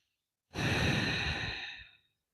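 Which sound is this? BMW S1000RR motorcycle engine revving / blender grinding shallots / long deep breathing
long deep breathing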